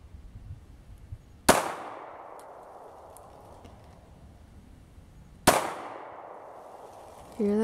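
Two sharp, loud gunshots from a .22 Crickett rifle or Beretta Pico pistol fired outdoors, spaced about four seconds apart, each ringing off with a decaying echo.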